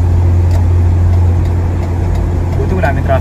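A motor vehicle on a delivery booking trip drives along the road, giving a loud, steady low engine and road rumble from close by, as if heard from inside the cabin, with no break throughout.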